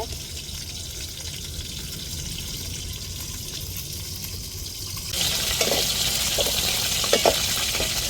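Prawn 65 frying in masala in a pan, a steady sizzle that grows louder partway through, with stirring scrapes and clinks near the end.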